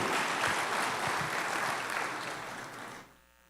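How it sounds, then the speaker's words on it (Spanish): A church congregation applauding during a sermon, a steady wash of many hands clapping that tapers and cuts off near the end, no speech over it. "Dale aplauso al Señor."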